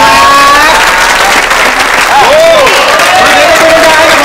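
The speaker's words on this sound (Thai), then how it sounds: "ขอเสียงปรบมือนะครับ" Loud, sustained applause from a studio audience on a Thai cooking-competition show, continuous and close, with a voice talking over the clapping.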